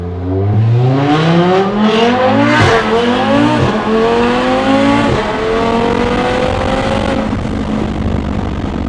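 A loud Audi TT RS tuned to 1300 horsepower revs hard through several rising gear pulls, with sharp bursts between shifts from the turbo's blow-off valve.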